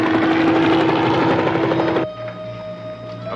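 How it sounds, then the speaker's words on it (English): A helicopter drones loudly overhead, a steady rotor and engine roar that cuts off abruptly partway through, leaving a quieter hum with a faint tone. "There's a helicopter directly overhead."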